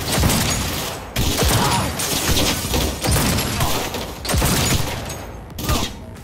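Rapid bursts of automatic gunfire from a Cyberpunk 2077 firefight, loud and close, coming in several sustained volleys separated by brief gaps.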